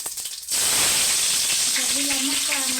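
Curry leaves hit hot oil in a pan while cooking batata poha, bursting into a sudden loud, dense sizzle after a brief quiet moment and then hissing steadily, with a faint voice briefly at the end.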